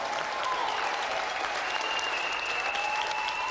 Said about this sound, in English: let's have a round of applause again for our gallant loser, Aidan Smith.